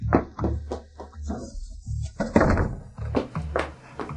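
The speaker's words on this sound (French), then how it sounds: "Cuyan, ferme la porte." A door is pushed shut indoors, giving a few dull, close wooden thunks. Busier tonal sounds fill the short stretch around them.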